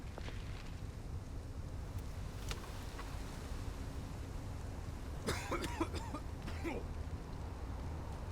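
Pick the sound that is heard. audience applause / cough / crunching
cough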